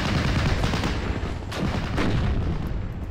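Tank cannon fire in the video game Steel Division: Normandy 44 targeting a Panther tank, with dense rolling booms and overlapping gunfire blasts in a continuous heavy battle din.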